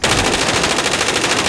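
Sustained automatic gunfire in the shooter game Call of Duty: Modern Warfare, a rapid, loud, evenly spaced stream of shots filling the whole moment without talk.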